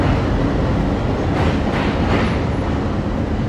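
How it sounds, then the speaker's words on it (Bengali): A 63-series EMD diesel locomotive being shunted away from its train produces a loud, unbroken broadband rumble with mechanical clatter, steady and close, without voices. "এখন লোকোমোটিভকে আবার নিয়ে যাওয়া হচ্ছে।"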